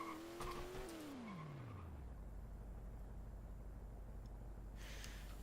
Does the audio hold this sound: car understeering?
yes